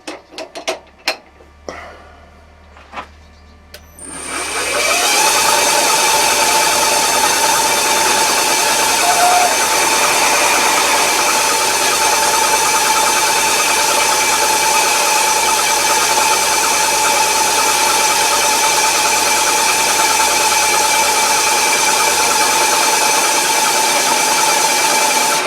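A knee milling machine drills into a part for quick change tool holders. A few light clicks and taps come first, then the motor spins up into a loud, steady whine and cutting drone that runs unbroken to the end, with no talking.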